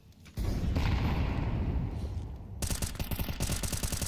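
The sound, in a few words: grenade explosions in Counter-Strike video game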